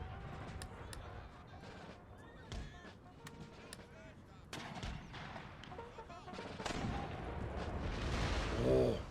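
Cannon and artillery volleys from the strategy game Empire: Total War boom and crack repeatedly at varying distances, several sharp reports layered over a rumbling battlefield, with someone talking over the action.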